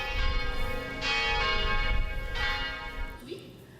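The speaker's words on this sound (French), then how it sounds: "On n'entendra plus donc les cloches de l'église Saint-Paul de Bas-Caraquette" The church bells of Saint-Paul church in Bas-Caraquet, New Brunswick, ring with a sustained, resonant tone, strokes swelling every second or so over a steady low hum, fairly close and loud.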